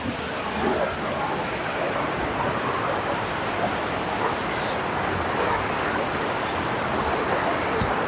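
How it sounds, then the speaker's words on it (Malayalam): The Kalindi river in Wayanad runs strongly over foaming rapids, giving a loud, unbroken roar of rushing water that holds steady from start to finish with no voices. "ശക്തമായ വെള്ളം നല്ല ഒഴുക്കുവാ"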